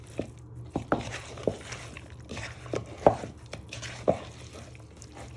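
Pork pieces are tossed by hand in a bowl to coat them, making soft, irregular wet slaps and knocks, about a dozen quiet hits spread unevenly and heard close up with no talk.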